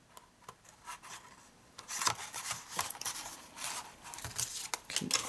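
Paper being snipped and rubbed while a handmade gift box is cut and folded for a nail care kit, several short dry cuts and rustles close by, no talking.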